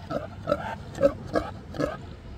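A pig on a homestead with rotational grazing gives a series of short nasal grunts, five in an uneven rhythm, close and fairly loud, with no talking between them.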